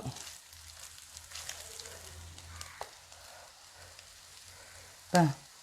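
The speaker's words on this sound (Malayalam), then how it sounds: "ചട്ടി ചൂടായിട്ടുണ്ടേ കുറച്ച് എണ്ണ ഒഴിച്ചു കൊടുക്കാം തേങ്ങ വറക്കാൻ" Quiet, continuous frying hiss of grated coconut in oil, with a short louder clatter near the end.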